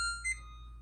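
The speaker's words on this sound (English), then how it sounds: "Turn the timer off, but not the oven." An oven timer gives a single short, high electronic beep, close and clear over a quiet kitchen background.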